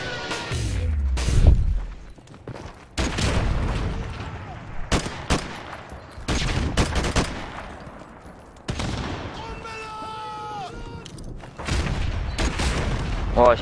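Grenade explosions and gunfire in Modern Warfare Remastered Search and Destroy on the Bog map, with sharp bursts and booms scattered across the clip and electronic game sounds between, loud and close.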